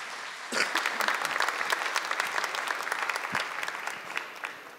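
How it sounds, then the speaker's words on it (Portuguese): A church congregation applauding during a Catholic Mass homily, clapping that starts abruptly and carries on at a steady moderate level with crisp individual claps, then eases off slightly near the end. "Pode aplaudir a palavra de Deus."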